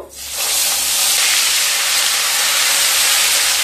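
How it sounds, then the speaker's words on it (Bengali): Onion paste hitting hot oil in a pan for Bengali fish kalia, bursting into a loud, broad, steady sizzling hiss that holds unbroken to the end. "পেঁয়াজগুলোকে হালকা ভেজে নেব"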